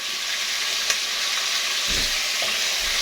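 Chicken sautés in a pan for chicken pochero, giving a steady close sizzle and hiss with soft stirring scrapes and a few low knocks from the pan.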